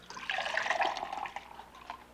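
Water pours into a glass in a steady, close trickle lasting about two seconds, with a faint bubbling fill and no voices.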